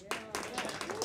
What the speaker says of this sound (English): Give me a cheer if you think it's riding a bike.